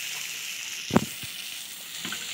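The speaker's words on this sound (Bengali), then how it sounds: "মাঝারি আছে ভাজা হচ্ছে।" Potatoes and pointed gourd frying in oil with ginger paste and ground spices, a steady faint sizzle with one brief clatter of stirring partway through.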